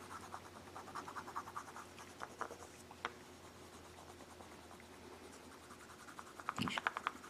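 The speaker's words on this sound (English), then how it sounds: "go back to my little graphite pencil here" Graphite pencil scratching over a drawing while shading a carved cowboy figure in angora chaps, a soft irregular scritching of short strokes close up, with a louder rubbing burst near the end.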